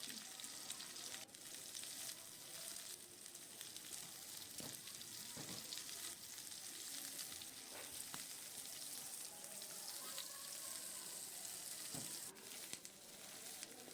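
Parboiled cauliflower frying in oil, giving a continuous close crackling sizzle with scattered pops and a few light stirring knocks along the way.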